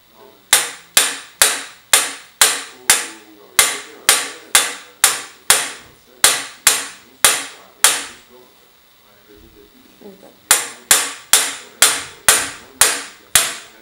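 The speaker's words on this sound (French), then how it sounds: "Alors c'est pas évident d'avoir un coup de marteau sûr et précis." A hammer taps on a trumpet's valve casing during restoration, with sharp metallic strikes in an even, steady rhythm, a brief pause with faint movement, then another run of regular blows, close and loud.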